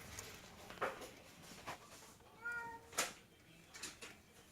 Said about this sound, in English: Cat in the background meowing.